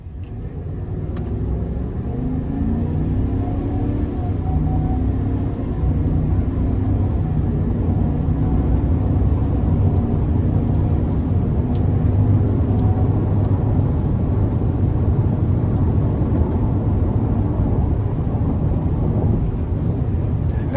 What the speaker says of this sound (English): I'm going to give it a pull here getting on the interstate.